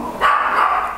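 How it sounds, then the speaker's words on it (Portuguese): A dog barks at children at the house door, one short close bark over low background noise. "começou a latir porque tem crianças na porta de casa e ele não gosta"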